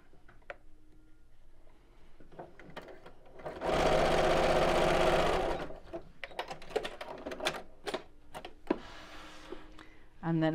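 A domestic sewing machine stitches a fabric circle pouch closed in one steady, loud whirring burst of about two seconds, framed by quieter clicks and handling noises before and after.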